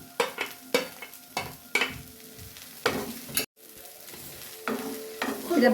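Fried egg being stirred into boiled broccoli in a pan: repeated sharp scrapes and clanks of a utensil against the pan at an irregular rhythm over a soft sizzle, close and clear.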